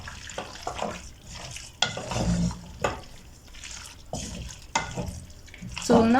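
Food stirred as it cooks in a pot, a spoon scraping and knocking against the pot in uneven strokes over a soft sizzle, close, with some watery sounds and no talking.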